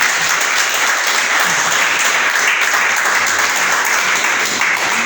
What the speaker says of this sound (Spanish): ¿Cuándo le damos un aplauso al Señor?